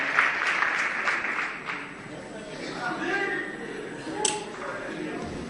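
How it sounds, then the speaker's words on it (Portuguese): Church congregation applauding in worship, a dense patter of clapping that carries on through most of the stretch, with voices calling out over it and a sharp bright ping near the end. "Quem pode aplaudi-lo com palmas e glória a Deus?"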